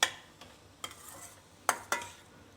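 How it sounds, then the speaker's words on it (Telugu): A spoon stirs vegetable paneer sandwich filling in a pan, giving four sharp scraping clinks spaced irregularly over a soft background sizzle, close and alone. "ఇప్పుడు అన్నీ కలిసేలాగా బాగా మిక్స్ చేసుకోవాలి"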